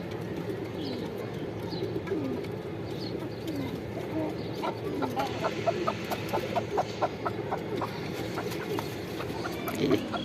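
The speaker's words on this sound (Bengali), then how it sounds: "কি ছোট সাইজের মুরগি" Small chickens, or pigeons kept in a loft, cluck and coo softly over a low murmuring background, with a rapid run of repeated short calls in the middle and a faint voice now and then.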